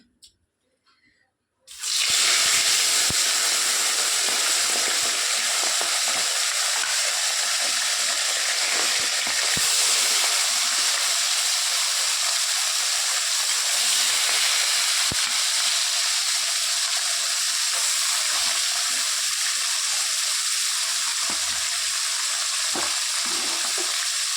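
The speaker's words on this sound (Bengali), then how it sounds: "এদিকে কিন্তু আমার তেল গরম হয়ে গেছে এই যে মাছগুলো চলো সব ভেজে নেব দিয়ে দিই" Bata fish dropped into hot oil on a clay stove for a spicy fish curry: a loud, steady sizzle bursts in after a brief quiet start and keeps going, close and unbroken.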